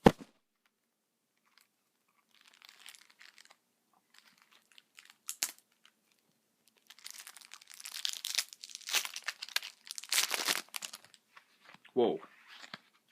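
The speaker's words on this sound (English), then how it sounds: "why don't I pop these cards open and let's take a look" Wrapping on Witcher 3 Gwent card packs crinkles and tears close up, starting with scattered faint rustles and building into longer bursts of loud crinkling and ripping, with a sharp tear near the end.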